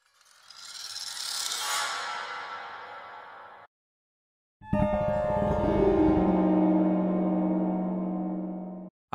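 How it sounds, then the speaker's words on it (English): Stringy, eerie instrument effects for game ambience: a breathy, scraping swell that cuts off abruptly, then after a short gap a sustained, grinding tonal drone with ringing overtones. "I have some stringy, eerie instrument effects."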